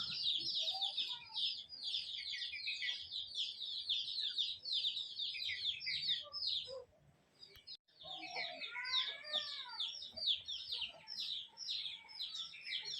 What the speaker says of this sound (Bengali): এটার ভেতরেই মনে হয় ছোটো ছোটো মুরগিগুলো রয়েছে